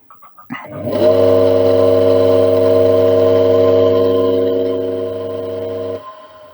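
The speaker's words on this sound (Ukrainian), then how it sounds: "І чуєте, як гудить мотор? Він так гудіти не повинен." A three-wire washing machine motor running without load hums steadily with an abnormally strong tonal drone and harmonics, loud and close, starting after a brief click and cutting off near the end.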